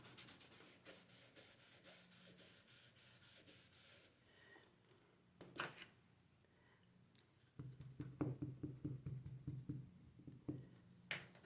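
Embossing buddy powder tool rubbed over cardstock for a stamped flower card, giving a rapid run of soft rhythmic rubbing strokes, then a pause with a couple of knocks and a second, lower patting burst of strokes.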